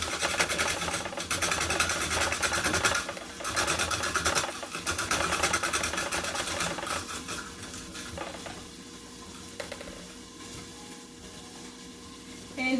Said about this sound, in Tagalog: this machine taking out the hard part of your celery